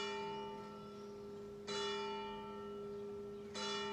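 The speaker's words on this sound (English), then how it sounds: "It's so nice living with church bells" Church bells toll slowly in the distance, three strikes a couple of seconds apart, each ringing on with a long resonant hum in a quiet setting.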